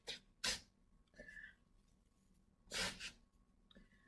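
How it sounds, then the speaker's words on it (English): Two sharp, breathy sneezes from a girl, one near the start and another about two seconds later, each a short explosive burst with quieter sniffs and breaths in between. "Oh, I sneezed."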